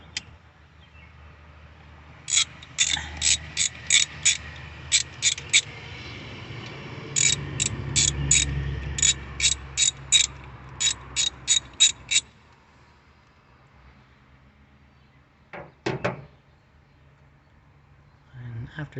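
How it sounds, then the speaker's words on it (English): Ratchet wrench unbolting an Edelbrock carburetor from a 1974 AMC 360 engine with a Holley Street Dominator intake: bursts of rapid, close ratcheting clicks in several runs over low background hum, then a few scattered metallic clanks. "Relatively new Edelbrock carburetor, which I'm going to pull off now."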